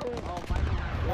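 Rapid bursts of automatic gunfire in a military shooter game, sharp cracking shots in a quick run over about a second, close and loud, with a voice faintly mixed in.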